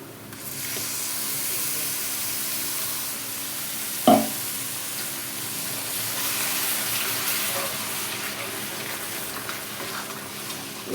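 Tomatoes and masala powders fry in oil for chicken kulambu, giving a steady sizzle and hiss with one sharp clink of a utensil against the pan and a few soft stirring scrapes.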